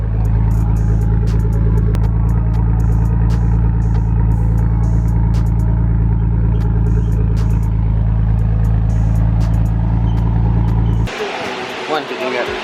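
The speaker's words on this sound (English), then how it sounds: "How good does it sound? I love these exhausts." A modified Daihatsu Mira Turbo L200 idles through its aftermarket exhaust with a loud, deep, steady rumble close by, then cuts off near the end. A voice is heard over it.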